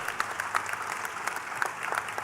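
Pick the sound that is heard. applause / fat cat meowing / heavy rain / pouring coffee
applause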